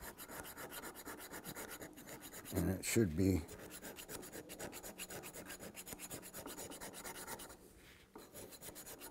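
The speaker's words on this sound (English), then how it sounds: "one more time around with the file here" Steady rasping strokes of a file on the wood of a work skiff being built, continuous scraping with a brief louder burst midway, close up and fairly quiet.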